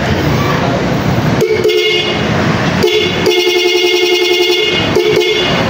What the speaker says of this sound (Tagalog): Yan yung busina nya.